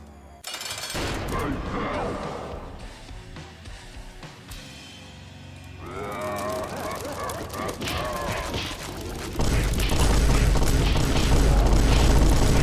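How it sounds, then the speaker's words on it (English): In a video game boss fight against Mega Satan, explosions and gunfire-like blasts pile up in dense, overlapping bursts that grow louder and more constant toward the end. "Why do I hear more explosions on this run"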